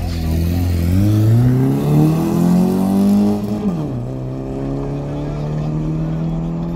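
A VR6 car engine revs hard at a raceway stance and spinning event, its pitch climbing in rising sweeps, then dropping sharply and settling into a lower steady drone, loud and close.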